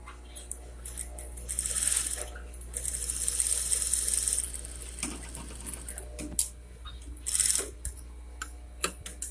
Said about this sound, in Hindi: ये ऐसे डबल सिलाई हो रही है।